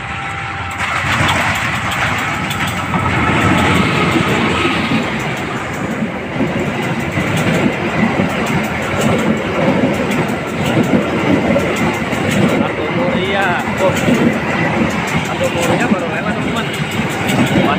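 A train rumbles steadily past at close range through Cikampek station, Indonesia, a continuous loud roar of wheels and engine with faint rhythmic clatter throughout.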